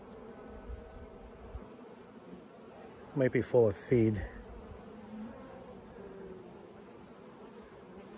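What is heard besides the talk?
Italian Buckfast honey bees buzzing on hive frames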